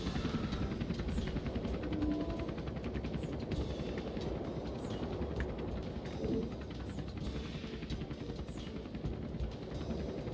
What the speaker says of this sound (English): there's a helicopter that's going to try to escape